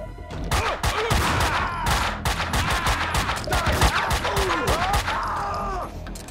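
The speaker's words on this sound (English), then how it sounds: "I tried to shoot him in the face as much as I could" Dense, loud video-game gunfire from Max Payne 2, rapid overlapping shots and bursts filling the whole stretch with scattered cries and groans in the mix.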